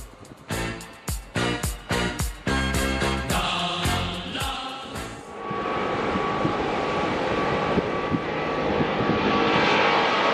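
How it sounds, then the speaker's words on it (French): Rhythmic swells of jingle-like music give way to a steady, broad engine roar as an airplane takes off and flies away, loud and sustained. "l'avion est reparti, repart vers d'autres aventures"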